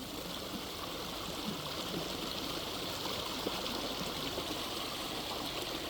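A creek runs steadily near an off-grid homestead cabin build, its flowing water a constant broadband wash with no pauses, close and moderately loud throughout.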